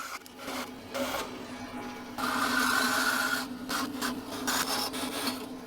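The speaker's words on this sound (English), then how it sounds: "I'll start by cutting the bulk of the material off at the bandsaw." A bandsaw cuts through a wooden board for a shave horse build, with a steady motor hum under bursts of rasping blade noise that swell and fade as the wood is fed, close up and without talk.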